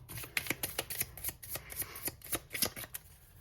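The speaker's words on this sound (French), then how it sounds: "Je vais recouvrir avec ce tarot." Tarot cards being shuffled and laid out during a reading, a rapid run of close, crisp riffling slaps and card flicks that repeat steadily, with no talk.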